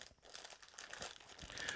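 A plastic bag holding grease towels is handled in a tool kit, crinkling and rustling continuously up close, growing a little louder toward the end, with no talk.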